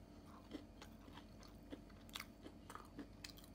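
Close, quiet bites and chewing on a gluten-free brownie with a crunchy top and gooey inside, a series of sharp crunches spaced irregularly with soft mastication between them.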